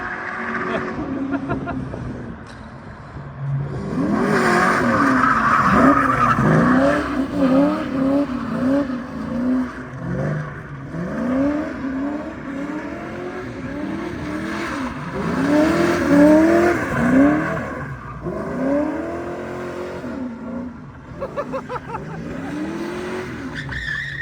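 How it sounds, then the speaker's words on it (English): A budget Ford Mustang Foxbody drift car does big donuts on tires at 20 psi, its engine revving hard in repeated rising and falling surges with squealing tire noise, loud and sustained, with people talking in between. "I've never really done any big donuts like that before"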